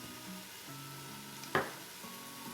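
Onions with cumin and Italian seasoning sizzle quietly in an Instant Pot, a soft steady hiss broken by one sharp utensil tap.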